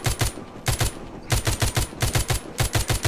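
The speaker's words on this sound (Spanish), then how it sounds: "la ametralladora lo que pasa es que no me tengo que parar a apuntar mucho" Machine gun fire in the zombie video game The Walking Zombie 2 comes as three rapid bursts of loud, punchy shots with short pauses between them.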